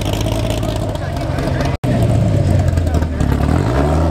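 A Dodge Viper's engine rumbles loudly and steadily at a cars and coffee meet, its low tone rising in pitch toward the end as it revs, with a brief dropout midway and voices talking over it.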